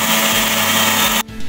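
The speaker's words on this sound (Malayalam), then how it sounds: "നമ്മൾ ഈ ഒരു ഉഴുന്ന് അരച്ചെടുക്കാൻ പോവാണ്" A kitchen mixer grinder runs on soaked urad dal with a little water, giving a loud steady motor whine that cuts off abruptly near the end.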